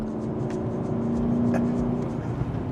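A Mercedes CLK500 engine pulls and accelerates in a steady, loud, close drone that stays level for a few seconds, with a faint tonal whine rising and then falling under the roar.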